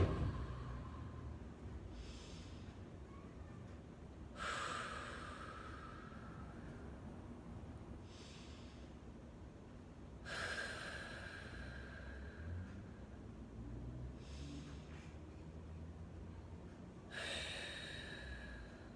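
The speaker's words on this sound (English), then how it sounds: "take some deep breaths" Slow, deep breaths during a seated yoga butterfly stretch, several long, airy inhales and exhales spaced a few seconds apart, close and soft over a faint hiss.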